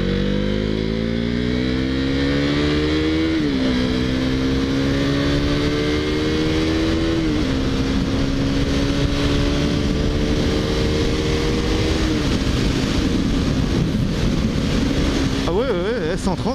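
A KTM Duke 390 motorcycle accelerates through the gears, its engine note climbing steadily then dropping at each shift, loud and continuous with heavy wind rush and a voice talking briefly.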